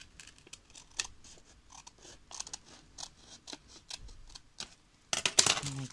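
Scissors make a run of quick, crisp snips as they cut paper for a vintage envelope pocket in a junk journal, then end in a louder rustling burst.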